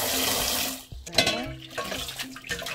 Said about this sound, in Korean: 이거를 물에 씻어서 담궈야 돼요